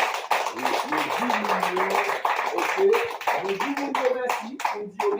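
A crowd at a food distribution for vulnerable people claps steadily and thickly while voices call out and talk over the applause.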